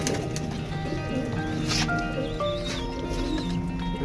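Teddy racer pigeons cooing softly at a pigeon loft in Lahore, a steady low murmur of coos with a few brief calls over continuous background bird noise.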